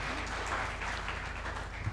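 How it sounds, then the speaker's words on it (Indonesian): Applause from an audience at the inauguration of the Adhyaksa building, honouring PT Pertamina Persero. Dense, steady clapping keeps up at an even level for about two seconds. "Mohon tepuk tangan untuk PT Pertamina Persero."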